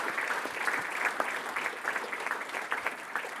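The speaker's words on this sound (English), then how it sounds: "Give them a round of applause," Audience at a sports hall of fame induction ceremony clapping steadily, a dense, moderately faint patter of many hands with no voices over it.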